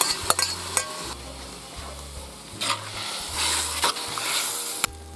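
Onions, peppers and a bay leaf sizzle steadily in a kazan. A utensil stirs and scrapes through them, with sharp metallic clinks and knocks against the pot at irregular moments.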